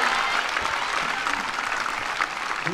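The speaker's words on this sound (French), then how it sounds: "Allez, sous vos applaudissements, Mathieu Pessac." A crowd at a Basque strength festival in Saint-Palais applauds, with dense, steady clapping throughout and faint voices mixed in.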